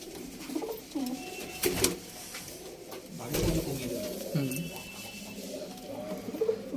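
Pigeons coo in low, throaty bursts at close range among a flock of mature birds, with a person talking over them and a few louder flutters breaking through.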